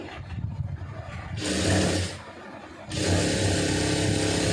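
A sewing machine stitching a folded neck edge of a garment, sounding as two loud steady whirring runs with a short pause between them.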